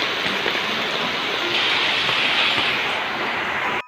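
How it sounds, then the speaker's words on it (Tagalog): Heavy rain pours steadily over a backyard tilapia fishpond in a dense, loud roar that holds without pause, then cuts off abruptly at the end. "Ang lakas ng ulan."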